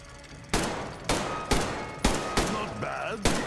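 Gunfire rings out at targets in Metro Exodus: about seven sharp, loud shots spaced irregularly, each with a short ringing tail, and no talking in between.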